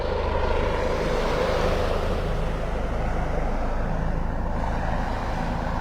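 A small airplane flies low overhead above Vanderbilt Beach in Naples, Florida, its steady engine drone loud and sustained throughout, with surf faintly beneath it.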